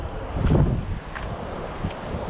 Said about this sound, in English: Walking back and forth because I'm really hoping this wind will die down.